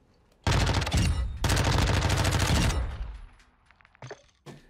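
Bursts of Lockman submachine gun fire in Warzone 2, two long loud automatic volleys close up, followed by quieter scattered shots and game sounds.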